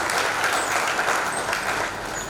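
Audience clapping at an event honouring soldiers' families, a steady dense wash of many hands held at an even level throughout with faint voices underneath.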